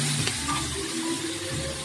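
Spicy mushroom curry with tomato, ginger, cumin and coriander powder sizzling and being stirred in a pan, a steady close frying hiss with soft scraping under it, no talk.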